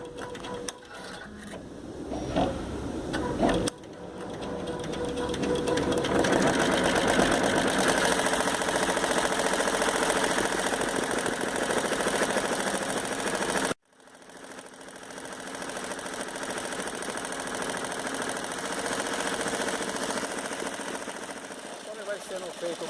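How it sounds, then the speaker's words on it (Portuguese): A Sansei HT-1201 embroidery machine stitching: a steady, fast mechanical whir and rapid needle chatter that run continuously, stop abruptly for a moment, then resume, with a voice talking over it. "Vai sendo feito o bordado, vai tendo a execução, ela vai fazendo no painel conforme está trabalhando."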